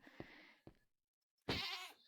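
Sheep in the video game Minecraft giving a few short nasal bleats, close and clear, with a brief silent gap before a louder final bleat.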